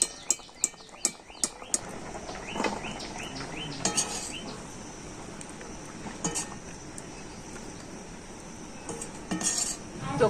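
Boiled jackfruit seeds drained and lifted from a pot: sharp metallic clinks of a utensil against the pot open the scene, followed by soft scraping, sloshing and occasional clatters, with faint bird chirps in the background.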